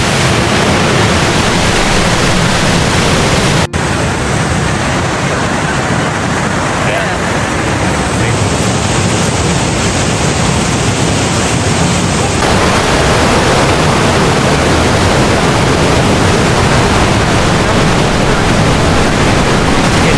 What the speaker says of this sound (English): Hear the water rushing under the stairs.